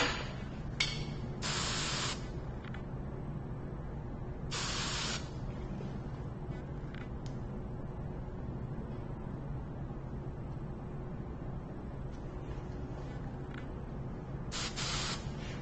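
Hairspray from an aerosol can is sprayed onto styled thin hair in several short hissing bursts separated by pauses, close and fairly soft over a low steady hum.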